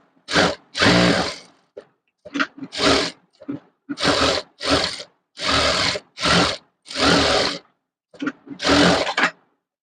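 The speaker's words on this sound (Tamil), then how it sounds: "அப்படியே சுற்றி தையல் போட்டு எடுத்துக்க போகிறோம்" A sewing machine stitches around a puff sleeve in short loud bursts of rapid mechanical whirring, close by, with brief pauses between each run.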